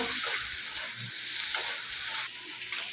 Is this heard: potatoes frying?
yes